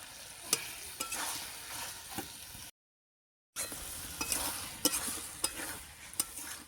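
Shredded cabbage sizzles in hot oil in a pan, with a steady frying hiss broken by sharp clinks and scrapes of a spatula stirring, briefly cut to silence midway.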